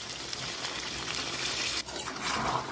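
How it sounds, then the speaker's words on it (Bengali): A little water goes into potato curry (alur dum) cooking in a pan. It makes a steady soft sizzle and hiss, with a brief dip near the end before the bubbling resumes. "সামান্য অল্প জল দেব"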